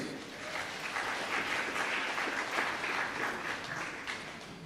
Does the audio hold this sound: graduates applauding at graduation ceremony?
yes